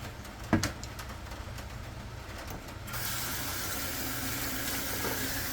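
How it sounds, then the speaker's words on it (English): Salted cucumber slices for bread and butter pickles rinsed under running water. After a quiet start with a brief clatter, a steady tap rush begins about halfway and continues evenly to the end. "what we're going to do is rinse it off, rinse all the salt out"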